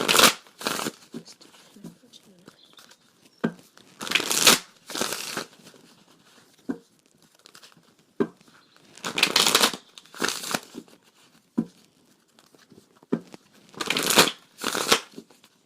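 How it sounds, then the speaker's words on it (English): A deck of tarot cards is shuffled by hand in repeated crisp riffling bursts, close and fairly loud, with pauses and light card handling between them and a voice speaking quietly in places. "Now, I'm going to pull some cards of advice for you."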